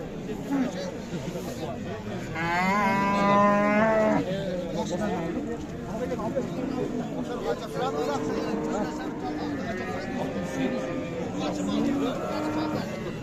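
Grey cattle moo at the Uchkun livestock bazaar in Osh, a long, loud, drawn-out call near the start and a fainter one later, among the crowd's chatter and traders' voices.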